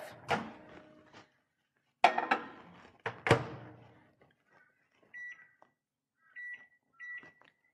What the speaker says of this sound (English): We're going to pop that into the microwave for two minutes on high.